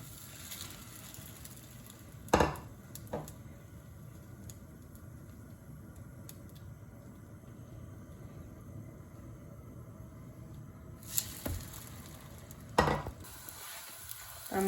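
Batter-dipped bread fries in hot ghee in a pan as a soft, steady sizzle, with a few sharp clatters and scraping bumps of the pan at intervals and no talking.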